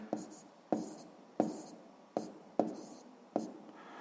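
Pen on paper while working through a sixth-grade math exercise, a series of six distinct scratchy strokes at a steady rhythm, close and soft with no talking.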